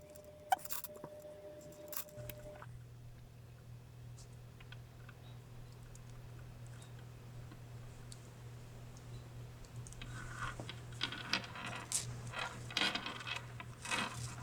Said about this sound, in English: So let's load up all the beads we need here.